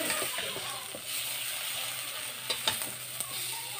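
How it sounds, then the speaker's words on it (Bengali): Vegetables fry in hot oil in a pan for a few minutes, a steady sizzle with occasional scraping and clicking stirs, close and fairly quiet, with no talking. "আমি 3-4 মিনিটের মতো ভাজা করছি"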